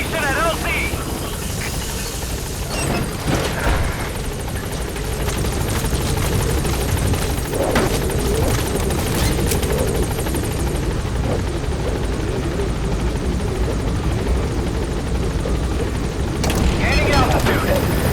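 Helicopter arriving at a landing zone in Metal Gear Solid V: The Phantom Pain, a loud continuous rotor roar with low rumble and occasional thumps under radio-style voices.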